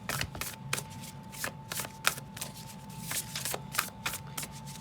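Tarot cards being shuffled by hand at close range, a run of quick riffling bursts and soft slaps repeating unevenly over several seconds, with no talking.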